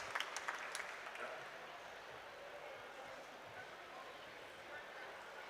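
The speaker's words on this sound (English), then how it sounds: "Can we give him a round of applause?" Applause from an audience at a COP27 youth adaptation awards ceremony, a fairly quiet, even patter of clapping with a few sharper claps at the start, heard from some distance in a large hall.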